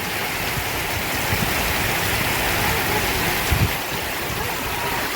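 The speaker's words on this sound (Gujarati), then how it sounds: "રાજકોટ ગામમાં ભારે વરસાદ ચાલુ થઈ ગયો છે જોઈ શકો તમે" Heavy rain pours down steadily in Rajkot village, Banaskantha, a dense, even hiss of water close around, with a couple of soft thuds partway through.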